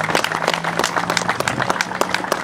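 Applause from a rally crowd gathered at the BLM, a steady wash of dense clapping sustained throughout with a few sharper claps standing out.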